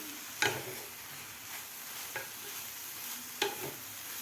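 Fenugreek leaves with salt are stirred in a pan, with a few sharp spatula scrapes standing out over a continuous soft sizzle.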